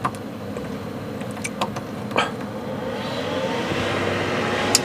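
A powerful right-side ventilation fan runs inside an SUV set up for camping, a steady close whooshing drone that swells louder after a few seconds, with a few sharp clicks.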